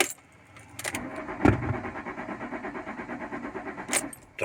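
A car key jingles and turns in the ignition, then the starter cranks with a steady rhythmic chug that does not catch, as the immobilizer blocks the engine from firing.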